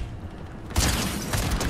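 A burst of gunfire in Fortnite erupts suddenly after a quieter stretch, loud and close, with a couple of follow-up shots trailing off.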